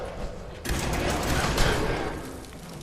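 Gunfire in Fallout 4, a sudden loud burst of rapid shots and thuds that starts abruptly and continues as dense, rattling fire for a couple of seconds.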